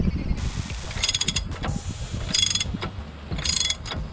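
A bolt is ratcheted off a Chevrolet Tahoe wheel hub assembly, with repeated close, loud clicking bursts from the ratchet and metallic rattling between them.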